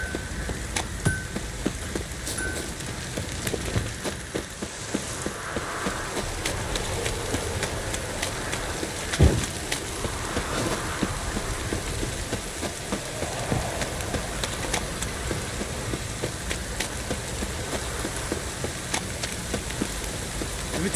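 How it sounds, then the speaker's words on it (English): Steady rain falls in Witcher 3: The Wild Hunt, a continuous wash of patter lasting the whole stretch with no one talking. "Don't stop raining, my arse will rot off."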